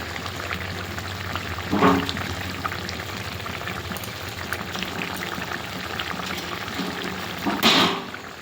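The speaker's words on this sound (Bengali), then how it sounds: "এবারে জল দিয়ে দেবো।" Water goes into a cooking pan of pabda fish in a village-style mustard and poppy seed dish, with steady bubbling and liquid sounds and two short, louder splashes.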